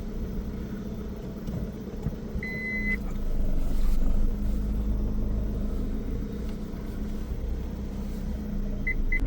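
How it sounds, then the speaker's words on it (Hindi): A car backing into a spot beside a jungle-edge roadside dhaba at night, with a steady low engine idle and rumble, a swell of engine noise midway, and short electronic reversing beeps near the start and again at the end. "गाड़ी बैक करके लगा लेता हूँ यहाँ पे।"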